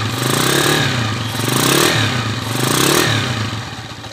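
A 19-year-old Honda TMX155 motorcycle engine with a gasket leak and worn timing gear runs up close, revving in repeated surges with clattering mechanical noise, loud and alone.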